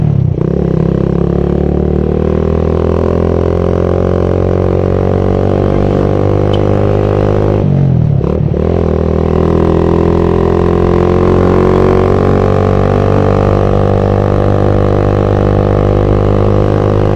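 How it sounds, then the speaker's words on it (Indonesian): Steady engine drone of a carbureted Suzuki Satria FU motorcycle on a test ride, holding a fairly even pitch with a brief dip and drop in revs partway through before settling back to a constant hum. "Kita tes sambil anterin motornya ke pemiliknya ya"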